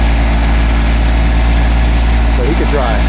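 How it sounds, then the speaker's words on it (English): A tractor engine idles while hitched to pull a tree stump, a loud, steady low rumble with constant vibration close to the microphone and a brief shifting burst near the end. "I told him there's no way that tractor's gonna budge that stump"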